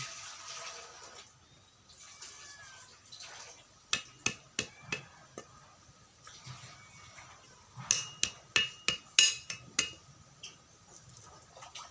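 Sharp percussive thuds of bamboo shoots being pounded strike in quick bursts, a handful around the four-second mark and another rapid cluster later, over faint background noise.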